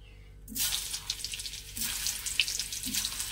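Boiled potatoes and green peas frying lightly in a pan, bursts of soft sizzling that start abruptly and swell in waves, with a few faint low clinks between them, fairly quiet and without talk.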